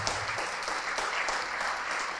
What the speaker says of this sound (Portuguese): Vamos aplaudir mais ao Senhor Jesus